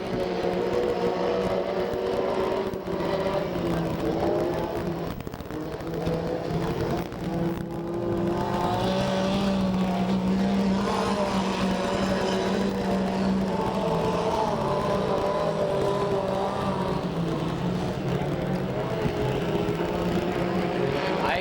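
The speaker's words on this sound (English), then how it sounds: "And a 16 car, Chris Patterson, we go green." Stock cars race a point race on an oval track in Porterville, California, a steady loud drone of several engines roaring together throughout, with a race announcer talking over the engine noise.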